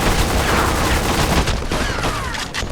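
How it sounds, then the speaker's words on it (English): Rapid gunfire bursts from the PS2 shooter Black by Criterion Games, loud and dense with overlapping shots and booming impacts, no talk over it. "Black is all about the guns and how they sound and feel to use"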